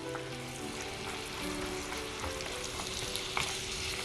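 Mixed nuts coated in honey and cinnamon sizzle and fry steadily in a pan, with faint stirring scrapes and a sustained tonal hum underneath, no talking.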